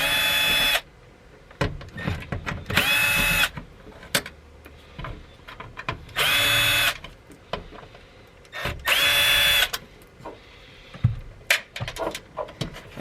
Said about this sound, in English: grab a Phillips screwdriver and then pop this 4 screws out